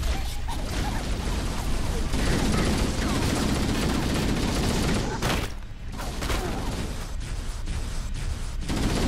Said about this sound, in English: Stop shooting at us!